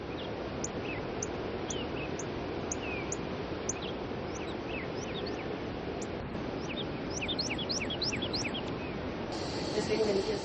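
Birds chirp and tweet repeatedly in short high calls over a steady broadband background of wind and waves on the coast of Kauai, Hawaii, with a denser burst of chirps near the end.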